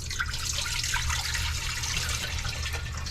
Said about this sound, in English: So I'm doing 4 cups of water,